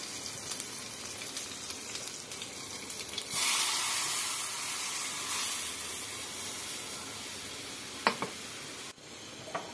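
Sizzling erupts as kadhi goes into a hot pan on a home stove, a loud steady hiss that holds for several seconds before easing, with a couple of clinks near the end.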